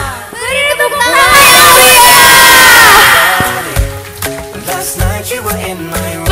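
A crowd at a pesantren graduation ceremony roars with cheering, whoops and shouting that swell loud for a few seconds, then settle into scattered voices, with a loud announcer-like voice and music-like tones mixed in.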